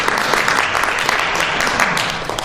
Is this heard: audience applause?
yes